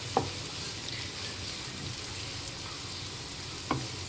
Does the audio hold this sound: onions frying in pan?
yes